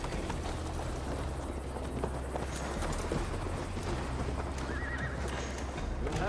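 A horse in Assassin's Creed Valhalla whinnies and snorts as Eivor mounts up, its hooves clip-clopping steadily beneath a low ambient rumble.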